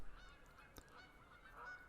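Snow geese honking in the hunting game theHunter Call of the Wild at Askiy Ridge, a few faint calls over a soft outdoor background, with no talk.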